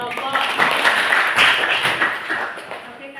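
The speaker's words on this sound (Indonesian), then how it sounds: "Silakan tepuk tangan untuk kelompok." Students in a high school classroom in Indonesia applaud their group, a few seconds of dense, close clapping that swells slightly and then fades.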